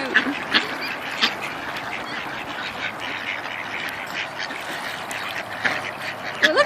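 Several ducks being fed at a park quack in scattered bursts nearby, with overlapping calls and a steady outdoor background hum.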